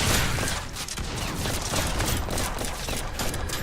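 Enemy gunfire in the video game Revulsion, a thick continuous crackle of shots filling the whole few seconds, loud and close, with no talk.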